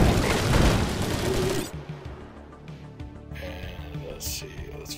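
Dense, loud gunfire and booming blasts from the video game Xenowerk Tactics fill the opening seconds, then give way to quieter game sounds and scattered effects.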